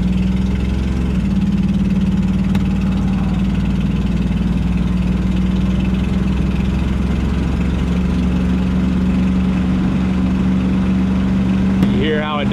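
A 45-year-old truck's engine runs steadily at a low, rumbling idle-like drone as it struggles to shift into the next gear, with a sharp click near the end.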